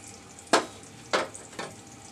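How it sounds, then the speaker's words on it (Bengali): Ginger and garlic paste with spices sizzles in a pan for a chicken dish, the steady hiss broken by three sharp scraping stirs spaced about half a second apart, close and alone. "মশলাগুলো একটু কষিয়ে নিব।"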